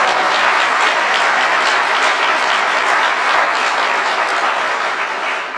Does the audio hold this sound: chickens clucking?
no